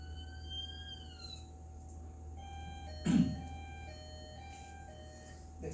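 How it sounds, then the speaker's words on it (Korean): A faint, distant police car siren wails with a rising tone, then steady tones continue over low background hum, interrupted by a brief thump. "그리고 경찰차."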